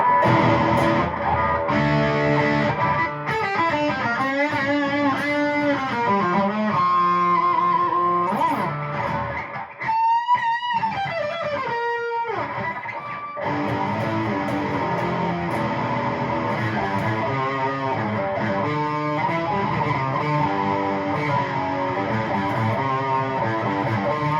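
Electric guitar driven through a Distortion Plus pedal with an EQ pedal shaping the tone, playing gritty sustained chords and melodic phrases nonstop, with a brief sparse break of high ringing notes midway.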